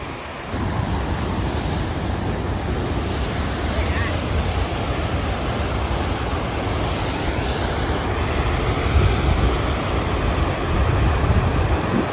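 Steady roar of a waterfall near Yellowstone's south entrance, loud and continuous throughout with wind buffeting the microphone, heard from a viewpoint close to the falls.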